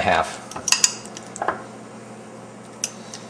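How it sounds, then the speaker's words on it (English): A metal fork clinks and scrapes against a bowl while mashing bananas for whole wheat banana bread, with a few sharp taps and soft squishing, close up and with no talking. "let's mash those up with a fork"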